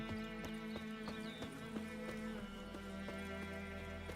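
Horse hooves clip-clop in a steady, even rhythm in The Witcher 3 video game, set over a sustained droning music bed, with no speech.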